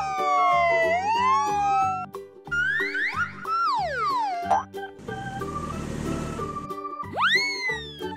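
A toy ambulance sounds its electronic siren up close, cycling through sweeping wails, falling chirps, a stretch of buzzy noise and a final rising whoop, with no voice over it.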